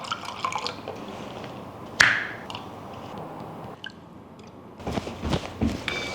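A small splash of liquid goes into a ginger, pineapple and coconut water drink, giving one sharp, close splash followed by faint dripping and light handling noises, with no voices.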